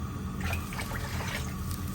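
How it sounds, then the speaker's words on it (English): Water pours steadily into a pot with a soft trickling, splashing sound, continuous and fairly quiet throughout. "I'm just going to add a little bit more water."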